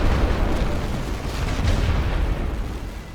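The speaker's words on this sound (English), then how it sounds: "That mortar is doing them a bit of damage." Mortar fire and rolling barrage in the World War I video game Great War Western Front: a continuous loud rumble of distant booms and blasts, dense low-end battlefield noise without distinct gaps.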